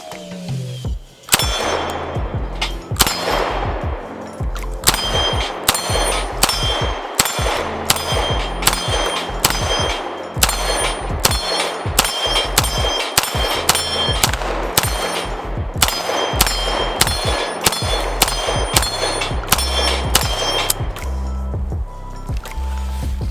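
UZI PRO pistol fired outdoors at a shooting range with a red dot sight, a long run of sharp, loud shots in quick irregular succession, each crack ringing briefly, with no talking.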